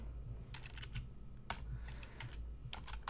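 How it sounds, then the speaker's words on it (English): Code typed on a computer keyboard, a quick run of light, close key clicks over a low steady hum, fairly quiet and with no talking. "So I'm going to come in here and type arguments 0."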